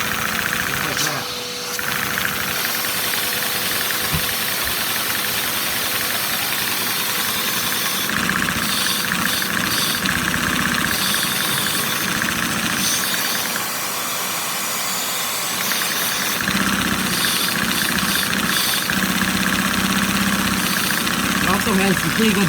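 A Lego inline two-cylinder OHV vacuum engine runs continuously with a fast, rattling, knocking rhythm, heard up close, while a voice talks over it.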